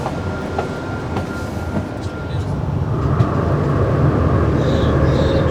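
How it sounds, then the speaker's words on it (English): A train pulls into a station on the HS1 high-speed line, giving a steady low rumble and rolling noise that swells slightly as it arrives, with faint high squeals near the end. "my train has just pulled in here."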